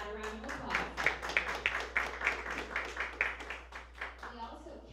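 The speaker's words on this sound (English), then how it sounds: "let's give that a round of applause" Audience applause at a disability advocacy conference session. A room of people clap steadily for several seconds with a dense, rhythmic patter that tapers off slightly near the end.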